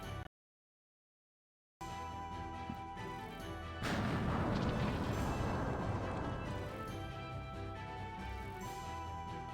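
An explosion sound effect bursts in abruptly as a loud, sustained, roaring rumble. It holds steady over a continuous musical backdrop.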